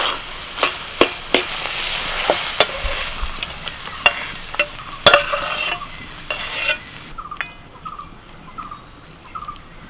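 A utensil scrapes and knocks against a pan as a pumpkin and shrimp dish with sugar is stirred, the sharp taps irregular and close over a soft sizzle, with faint birdsong in the background.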